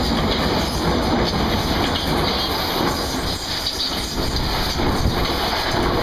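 Class 442 electric train passing through a station, a steady loud rumble and rush with faint rhythmic wheel clatter continuing throughout, close to the platform.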